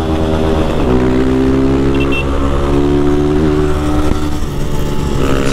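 A 160 cc motorcycle engine held at high revs, loud and close, a steady buzzing drone with shifting pitch that rises and wavers for several seconds.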